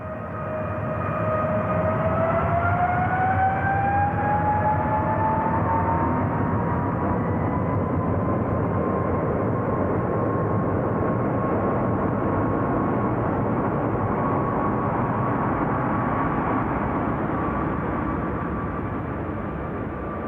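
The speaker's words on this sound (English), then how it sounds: "Test followed test as the team alternated takeoffs and landings in escalating degrees of" A Boeing 777 jet on a wet runway gives a steady, loud roar with a slowly rising engine whine that holds throughout, with no voices.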